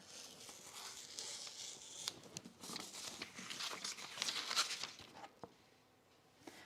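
Scissors cut a double layer of paper for a button blouse pattern, a close series of crisp snips and crinkling rustles in uneven bursts, with no voices.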